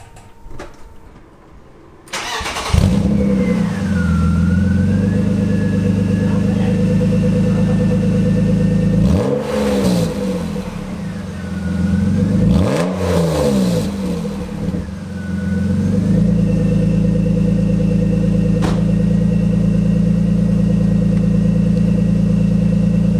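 A loud, steady BMW M3 E36 with a straight-piped, muffler-deleted exhaust idles with a deep rumbling drone, broken twice by brief rising revs before settling back to idle.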